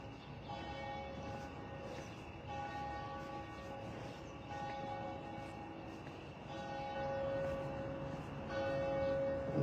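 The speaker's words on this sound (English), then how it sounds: "Love those bells." Church bells ring at seven in the morning, a steady run of overlapping, sustained metallic tones heard from some distance, fairly faint and without voices.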